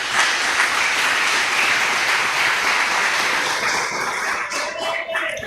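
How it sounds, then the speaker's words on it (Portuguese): A church congregation at a Presbyterian missions service claps together, a steady, full burst of applause that holds for several seconds and thins slightly near the end. "Quem pode aplaudir Cristo Jesus?"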